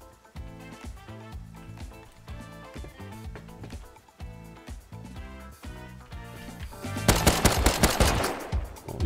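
Rapid automatic gunfire from the survival game Rust rattles in dense bursts throughout, swelling into a louder, harsher barrage of shots near the end.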